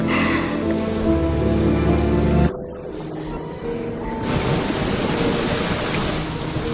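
Heavy rain pours down in a dense, steady hiss with thunder, briefly dropping and then surging back even louder.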